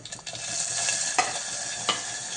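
Garlic cloves, curry leaves and tomatoes sauté in a pan over a lowered gas flame, giving a steady, close sizzle with stirring scrapes and two sharp utensil clinks.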